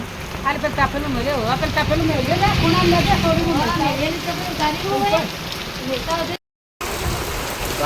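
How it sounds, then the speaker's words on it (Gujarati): Heavy rain pours steadily in a dense hiss while people talk over it nearby; the sound briefly cuts out near the end. "બહુ મોટા ફોરે વરસાદ આવે છે."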